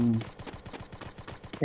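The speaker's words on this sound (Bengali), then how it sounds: "ওই যে আপনাকে গুলি করতেছে আবার" Rapid automatic gunfire in the video game Free Fire, a fast even stream of about a dozen sharp shots, moderately loud, with a short tonal burst at the start.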